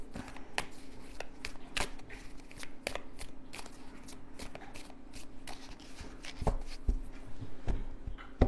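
Botticelli tarot cards being shuffled by hand, a steady papery riffle and rustle with repeated sharp card snaps and clicks throughout, close and continuous.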